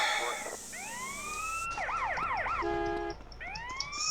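A police siren in GTA San Andreas rises in long wails, then switches to a fast yelping warble and a steady tone before wailing again, loud and continuous with no talk.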